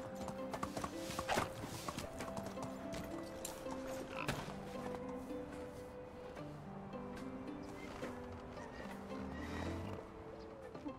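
A horse ridden through the medieval world of the video game Medieval Dynasty clip-clops along with a steady rhythm of hoofbeats, mixed with other game sounds around it.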